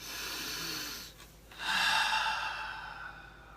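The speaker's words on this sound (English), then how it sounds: "So take a deep breath right now." A single deep breath during a guided meditation, a faint, airy inhale followed by a longer, louder sighing exhale in a quiet room.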